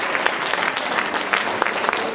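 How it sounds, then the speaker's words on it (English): Audience at a 6th grade promotion and trimester awards ceremony applauding steadily, a dense, continuous wash of hand claps with no voices on top. "Okay, give a round of applause."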